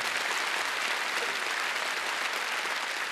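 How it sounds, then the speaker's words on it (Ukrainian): Dense, continuous applause from a large crowd, loud and unbroken throughout. "Ваші бурхливі оплески, панове, зустрічайте!"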